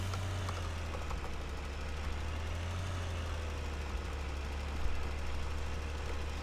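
A tractor engine runs in the Farming Simulator 2013 video game, giving a steady, loud, low idling drone with a knocking rumble that continues without a break.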